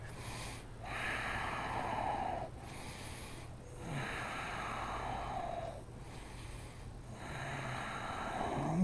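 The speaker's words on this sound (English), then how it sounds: "hold it and breathe" Steady, audible breaths in and out while holding a standing yoga balance pose during a strong flow class, slow rhythmic cycles of several seconds each, fairly close and alone without talk.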